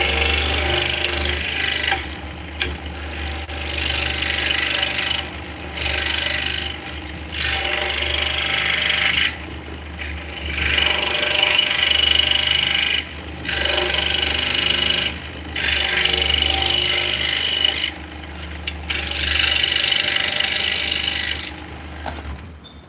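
A small hand saw with a magnifier attached rasps through wood in repeated stretches of scratchy cutting strokes, broken by brief pauses between bursts.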